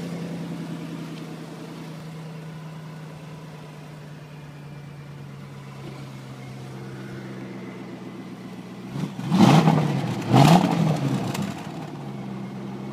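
A yellow 2002 Corvette engine idles with a low steady rumble, then is revved twice in sharp loud bursts before settling back to idle.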